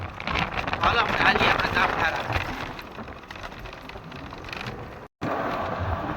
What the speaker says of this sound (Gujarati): આ વરસાદ અંધાર્યો જોરદાર